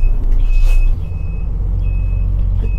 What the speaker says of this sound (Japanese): 965のバス乗りました。